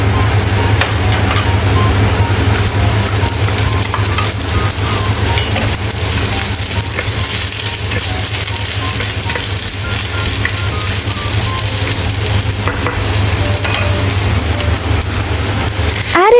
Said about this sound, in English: Let's stir-fry carrot and corn kernels.